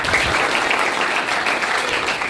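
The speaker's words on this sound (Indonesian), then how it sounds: "Boleh tepuk tangan?" Applause from a class of students in a Christian religious lesson, a dense burst of clapping lasting a couple of seconds, steady and fairly close, with no clear talk over it.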